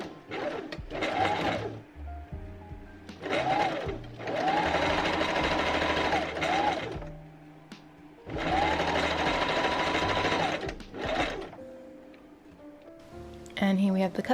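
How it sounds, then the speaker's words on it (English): A sewing machine stitches bustier dress pieces cut from a bedsheet, running in several loud bursts of rapid whirring separated by pauses, with small handling clicks between runs. "I'm sewing the 2 side front pieces, the centerpiece, right sides together"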